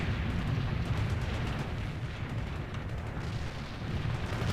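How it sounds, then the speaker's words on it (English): A heavy artillery strike in the real-time strategy game World in Conflict, with dense rumbling explosions rolling continuously as a low, thick roar without distinct gaps. "I prefer heavy artillery for everything."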